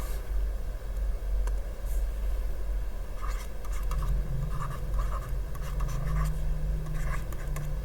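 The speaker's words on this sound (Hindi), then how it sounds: "यहाँ पे लिख दे रहे हैं हम" Handwritten notes scratch steadily with a pen or marker on a surface, a continuous close scribbling texture with a low background hum and no talk over it.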